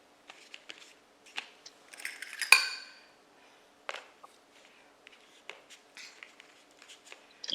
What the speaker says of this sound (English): I'm trying to cut the last piece, and the tomato is slippery.